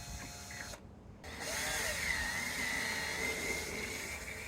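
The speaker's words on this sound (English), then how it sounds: "It's aluminum, so it should drill pretty easily." A steady whining power drill runs continuously after a brief pause, a high mechanical drone of drilling through aluminum, close up with no voices.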